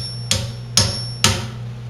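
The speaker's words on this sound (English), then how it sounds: "Insert the spile and gently tap it with a hammer until the pitch changes and the spile is secure." A hammer gently tapping a metal spile into a maple tree at a school sugar shack, three sharp, evenly spaced strikes close by, each ringing briefly over a low steady hum.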